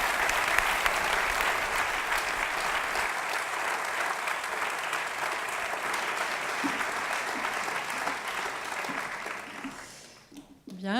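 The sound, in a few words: audience applause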